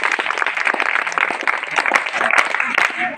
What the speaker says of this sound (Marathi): तुकाचे थाप मारूया सर्वांनी टाळ्या